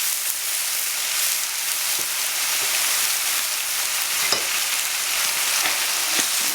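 Leafy greens stir-fried in a wok, a steady loud sizzle with scraping stirs and small clatters running throughout, no voices.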